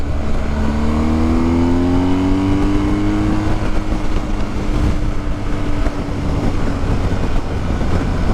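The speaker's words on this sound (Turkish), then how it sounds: "Araba geliyor yalnız." A car approaches on a road near the Bulgaria–Romania border, heard from a motorcycle as a loud, continuous engine and road roar with a rising engine whine early on and no talking.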